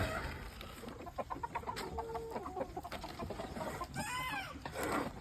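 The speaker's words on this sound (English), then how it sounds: "All the little baby chicks are starting to crow." Young baby chicks on a homestead make faint, scratchy attempts at crowing among clucking fowl, with brief rising calls over a low background of farmyard noise.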